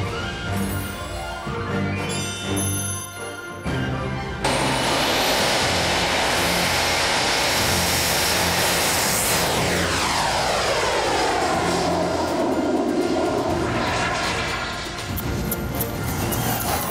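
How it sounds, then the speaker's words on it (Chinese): A professional-grade remote-control jet aircraft engine roars loudly and steadily with a high turbine whine. Its pitch sweeps as the aircraft seems to pass, and the sound fills the scene continuously without speech. "所以像这种专业级的喷射机"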